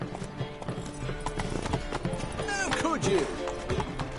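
A horse gallops in The Witcher 3, its rhythmic clip-clop hoofbeats running throughout with a whinny near the end, while someone talks briefly over it.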